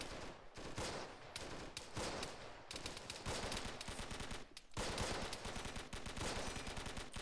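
Machine-gun fire in a WW2 reenactment: rapid, sustained bursts of shots, loud and close, continuing almost without a break, with short pauses between volleys.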